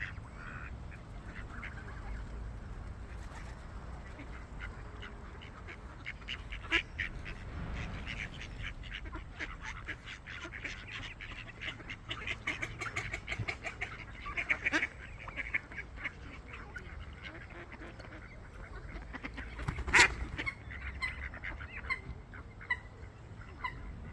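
A flock of swans on a lake calls continuously with overlapping honks and soft trumpeting, a busy mix of near and distant voices over an ambient outdoor background.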